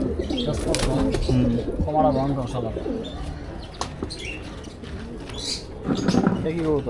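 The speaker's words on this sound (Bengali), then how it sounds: "এটাও সিলভার কবুতর একটা" A silver pigeon coos in repeated low throaty rolls among other pigeons in a flock, with someone talking nearby over the calls.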